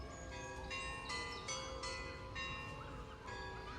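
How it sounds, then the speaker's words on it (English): Church bells ringing at midday, a series of repeated tolls about every half second with lingering ringing overtones, heard from some distance and fairly faint, with no talk. "Just waiting for this church to stop ringing its bells."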